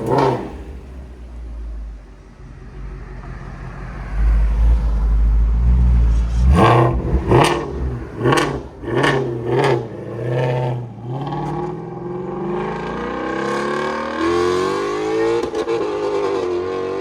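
A 1971 Ford F100 Ranger with a 360 V8, headers and a Flowmaster Flow Fx exhaust idles with a deep rumble, then barks through several sharp revs in quick succession before settling back to a rough idle.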